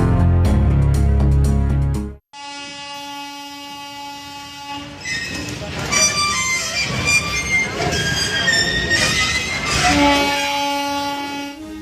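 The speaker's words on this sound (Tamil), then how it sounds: "அனல் மின் நிலையத்தில் பின்னோக்கி நகர்ந்து சென்று கார் மீது மோதிய சரக்கு ரயில்." A freight train rolls backward at a thermal power plant, rumbling and clanking along the rails, with metallic squeals and a horn-like tone, preceded by a loud musical sting that cuts off abruptly.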